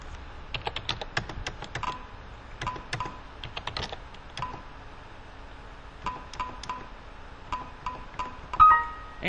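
Keystrokes on a computer keyboard while tabbing through item fields in a price book entry form: irregular bursts of close, crisp clicks with short pauses, ending in a firmer key press, with no talking.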